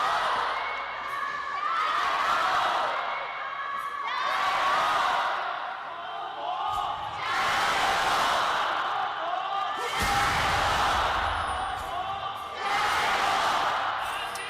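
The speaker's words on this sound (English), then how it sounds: "Very loud crowds tonight, Raafaa, which is good to see." A large, loud crowd cheers and roars in repeated swelling waves at an LPL Spring Playoffs esports match between Top Esports and JDG, with shouts rising over the arena din.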